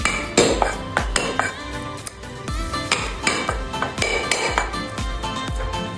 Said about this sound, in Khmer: យើងធ្វើការដំខ្ទឹមសម្ដងអ្នកនរគ្នា